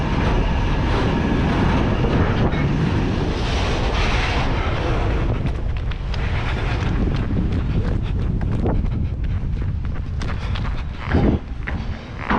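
A cargo train moves along tracks in Turkey, a loud close rumble and clatter of wagons blended with heavy wind buffeting, continuing unbroken with occasional metallic knocks.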